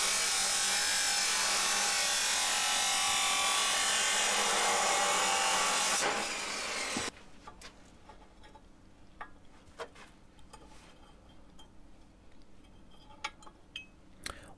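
A car strut shortened for coilovers on an AE86/TA22 Celica: loud, continuous grinding for about six seconds, then abrupt quiet scattered with faint clicks and handling noises.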